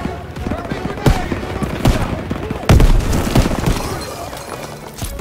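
Gunfire from the World War II shooter Call of Duty WW2, Operation Cobra mission, with several sharp shots and bursts scattered over a busy, loud battlefield backdrop.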